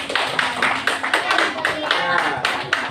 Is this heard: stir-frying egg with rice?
no